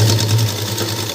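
A sewing machine stitches fabric with a loud, steady mechanical hum and rapid needle rhythm, running alone in a short close burst.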